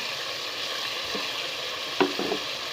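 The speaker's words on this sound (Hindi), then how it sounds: "और अच्छी तरह से इसकी भुनाई करेंगे" Masala sizzles and fries with potatoes in a pan for aloo baingan sabzi: a constant even crackle throughout, with a brief stirring knock near the end. No voices.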